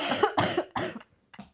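A person coughs in a short burst: three close, harsh coughs, then a fainter fourth after a brief pause, heard up close with no talking.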